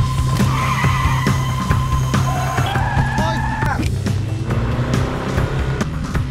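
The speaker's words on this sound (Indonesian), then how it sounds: "Akhirnya kita diperlihatkan aksi kebut-kebutan dari kedua tim." Cars race and skid through a film car chase between two teams: engines roar continuously while tires squeal in repeated rising and falling shrieks, loud and dense throughout.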